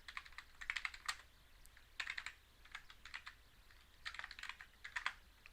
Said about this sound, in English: So we're going to type in kill all.